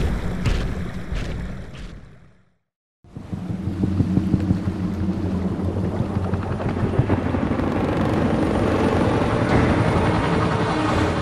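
Helicopters flying in a Gears of War cutscene, a loud steady rotor roar and rumble that cuts out briefly near the start, then returns as a dense, sustained drone with no talk.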